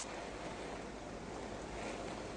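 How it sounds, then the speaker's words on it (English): Heavy rain pouring down outdoors, a dense, steady hiss and wash of water that stays loud and unbroken throughout, with no voices. "It's pouring out here."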